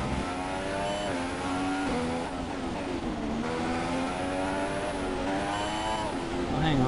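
The engine of an F1 race car in the F1 2016 video game drones steadily, its pitch climbing and dropping through gear changes, with a player talking quietly over it.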